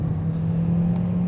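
A 2017 Hyundai Elantra Sport with a turbo engine and dual-clutch gearbox drones steadily while driving, a close, even engine hum and road noise with no talking.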